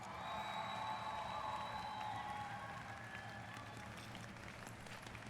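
A crowd applauds with dense, steady clapping and some cheering, sustained throughout at moderate loudness.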